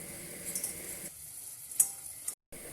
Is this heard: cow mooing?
no